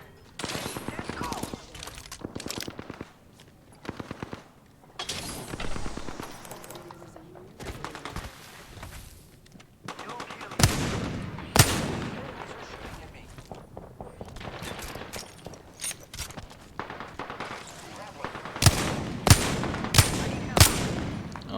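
Gunfire in the video game Apex Legends, rapid bursts and volleys of shots crackling throughout, with clusters of sharp loud reports near the end, while a voice talks intermittently over the action.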